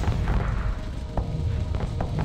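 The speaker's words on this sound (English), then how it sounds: "Shooting missiles." Missile launches in the space combat game Starsector during a battleship clash, a continuous rumbling barrage with several sharp booming thuds punctuating it.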